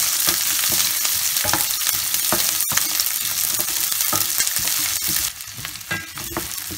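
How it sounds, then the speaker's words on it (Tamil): Small shallots for crab rasam sizzle and fry in a pan, a steady close crackling hiss with intermittent scraping clicks from stirring, no voices. "வெங்காயம் ஓரளவுக்கு நல்லா வதங்கிடுச்சு"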